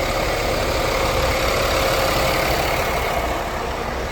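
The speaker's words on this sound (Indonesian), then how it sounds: "Coba dengar nih, mesin Scania Kampas 10 CB." Scania engine on a Putra Pelangi sleeper bus (Scania K-series chassis) running steadily, a constant loud idling drone with low rumble and vibration, heard from behind the bus without interruption.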